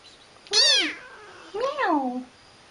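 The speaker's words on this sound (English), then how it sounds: "Meow." A little cat gives two close, clear meows, the first sharp and rising, the second longer and drawn out, with quiet room sound between them.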